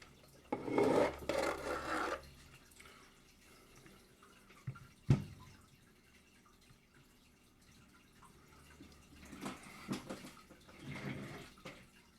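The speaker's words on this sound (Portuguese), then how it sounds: "Eu estou polindo o lado da arruela plástica para tirar a deformidade que existe nela." A plastic washer from a dual-ball-bearing laptop fan is rubbed to polish its side, coming as a few short bursts of rasping friction with quiet gaps and a sharp tap between them.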